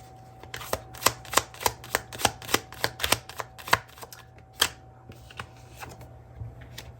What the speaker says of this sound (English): Let's grab one more card here.